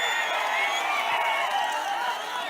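A large crowd at an outdoor political public meeting in Alur cheers and claps, a steady, loud mass of shouts and applause heard from within the gathering, without pause.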